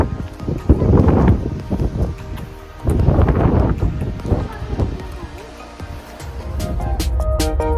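Gusty wind on a walking trail in Fish Creek Community Forest near Fort St John, British Columbia, buffets loudly in rough surges, mostly as blustery rumble against the microphone.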